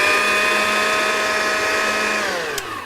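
An electric mixer whisks egg whites in a bowl for a lemon meringue pie, a steady close motor whine with a high harmonic hum that holds level, then dips slightly in pitch as it slows near the end.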